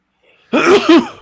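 A single sharp sneeze bursts out close after a moment of silence, loud and brief with two quick pulses.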